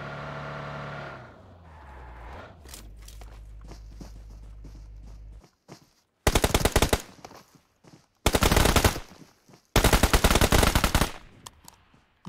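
Loud automatic gunfire from a gun in BGMI, three sharp sustained bursts separated by short pauses, following quieter game ambience and a low engine-like drone.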